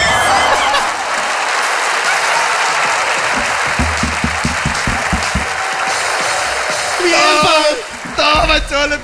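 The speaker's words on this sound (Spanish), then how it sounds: "Un fuerte aplauso, por favor." A live comedy audience claps loudly for a mime, a sustained burst of dense applause with whoops and laughter rising near the end as voices call out.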